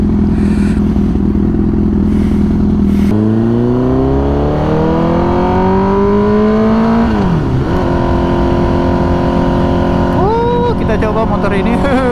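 A Honda CBR 1000 RR motorcycle engine roars close up while riding, revving with rising and falling pitch through gear changes under constant wind rush.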